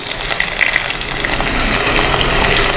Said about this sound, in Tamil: இந்த பெரிய வெங்காயம் நறுக்கி வச்சுருக்கோம்ல, அதை வந்து அது கூட ஆட் பண்ணிக்கிறோம்.